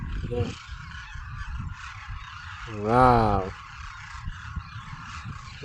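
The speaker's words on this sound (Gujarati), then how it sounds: "કેટલા બધા પક્ષી છે અને એક જૂથમાં બધા બધા એક જૂથમાં બધાની સરવા નીકળ્યા છે" A single loud honking goose-like call rises out of steady outdoor village farm background noise, with fainter calls from a flock of birds around it.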